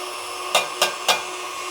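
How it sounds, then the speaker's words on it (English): Fresh nutmeg is rasped over a grater in three quick, evenly spaced scrapes, each a short bright rasp standing out against a quiet steady hum. "use a fresh nutmeg if you can. And just grate 1/4 of a teaspoon"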